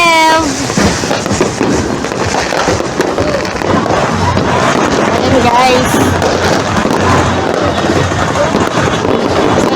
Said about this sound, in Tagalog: Dito marami na yung mga nag-fireworks.